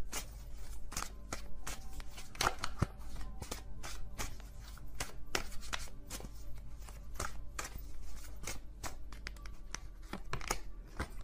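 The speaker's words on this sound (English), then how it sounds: "I saw it while I was shuffling." Tarot cards are shuffled by hand in a quiet room, giving a steady run of soft papery riffles and sharp little flicks and taps that recur throughout, close and fairly faint, with no voices.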